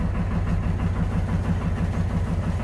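A lifeboat engine runs at a steady idle, a loud, continuous low rumble with an even pulsing throb and no voices.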